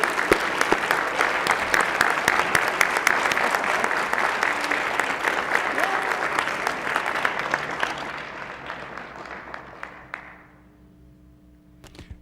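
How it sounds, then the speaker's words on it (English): Senate floor guests are honored with a long round of applause from colleagues in the chamber, dense and steady for about eight seconds, then thinning to a few claps and fading to quiet room tone. "a round of applause"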